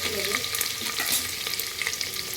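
Crushed garlic and ginger frying in hot oil for a spicy village-style chicken dish, giving a loud, steady sizzle with faint stirring scrapes throughout and no talking.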